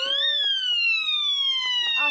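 A police bicycle siren sounds a loud, steady electronic tone that jumps up, then slowly glides downward in pitch, with faint voices underneath.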